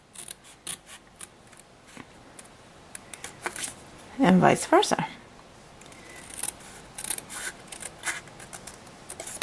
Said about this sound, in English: just take your scissors and cut along these lines